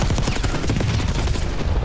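Rapid gunfire from a Call of Duty match during ranked play, a dense, continuous burst of shots filling the moment loud and close, with no talk over it.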